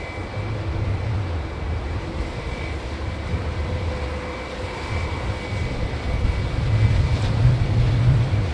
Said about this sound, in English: chase an A320 live down